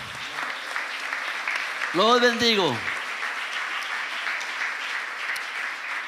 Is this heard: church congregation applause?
yes